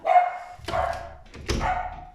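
A pet dog barks in a room, three loud, separate barks or bark bursts with short gaps between them and no talk over them.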